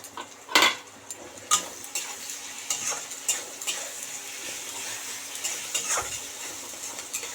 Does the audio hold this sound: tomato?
yes